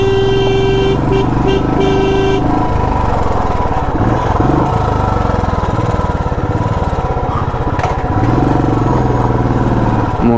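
Motorcycle being ridden downhill on a long mountain road trip, its engine thumping in a steady low rhythm close to the microphone, with a brief horn-like tone near the start and no talk.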